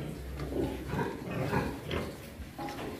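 A pregnant crossbred breeding sow on a farm gives a run of low, rough grunts close by, uneven in rhythm, with no talking.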